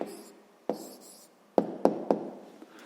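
A pen writing down an answer to a sixth-grade maths exercise, heard as a few separate close strokes and taps with quiet pauses between them.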